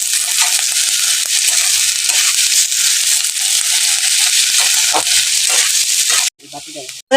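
Chopped onions hit hot oil in a pan with a loud, steady broadband sizzle that lasts for several seconds, then drops off sharply near the end as something in the pan is stirred or moved.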